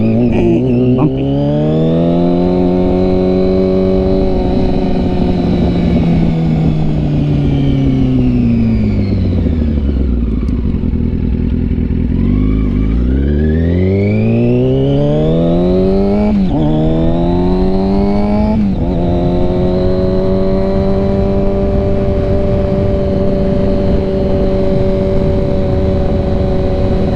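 Yamaha R6 sport bike ridden on a bumpy road, engine revving up and down through gears with rising and falling pitch, loud and close, steady throughout with no talking.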